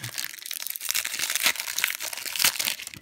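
Foil booster packs of Pokémon cards being torn open and handled, a continuous close crinkling and crackling with sharp tearing peaks, heard alone without talk.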